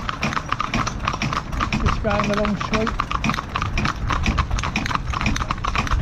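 Horses' hooves clip-clop in a steady, close rhythm as they pull a Unicorn carriage, while someone talks over the hoofbeats.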